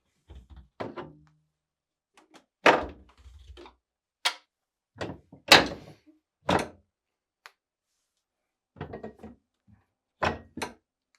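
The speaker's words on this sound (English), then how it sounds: "Now, remove the 4 shelves by tilting up and pulling out." Shelves being tilted up and pulled out of a GE refrigerator, a run of sharp plastic and glass clunks, knocks and scrapes spread irregularly across several seconds, close and fairly quiet with silent gaps between.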